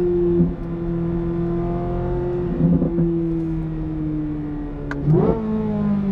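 A 2023 Corvette Z06 or 2018 Audi R8 RWS engine revs steadily under load, its harmonic drone rising gradually with brief jumps as the 8-speed dual-clutch shifts gears, loud and close.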